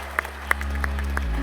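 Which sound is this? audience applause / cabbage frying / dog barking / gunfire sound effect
audience applause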